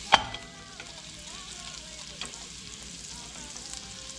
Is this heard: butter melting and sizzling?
yes